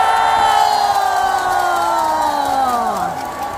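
A large outdoor crowd at a Korean song festival roars and cheers with a long collective shout of excitement, loud and sustained, slowly fading toward the end with applause mixed in.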